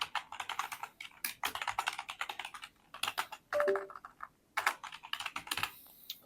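Keys clacking on a computer keyboard as a repository name is typed, in quick bursts of close, crisp taps separated by short pauses.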